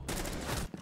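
Rapid gunfire bursts from a shotgun in a tactical shooter game, loud and dense for under a second before cutting off abruptly.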